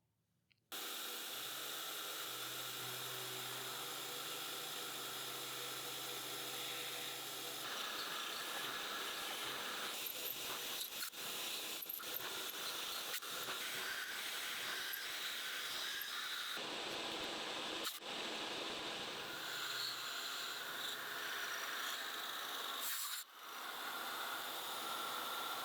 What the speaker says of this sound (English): Just rotating the table to the required angle and milling them out one side at a time.